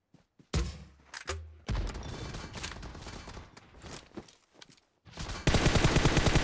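Gunfire in the mobile shooter PUBG Mobile, with loud bursts of automatic fire and single shots, a few thumps, a brief lull, then a dense sustained rattle at the end, close and with no talking.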